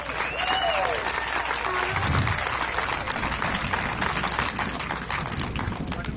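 Sustained applause from a crowd at a July 4th Tea Party event, dense steady clapping that fills the whole stretch with a few faint voices mixed in.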